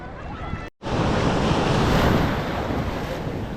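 Ocean surf breaks steadily onto the beach at Cox's Bazar, a loud, continuous roar of waves and wind noise on the microphone, briefly cut off for an instant near the start.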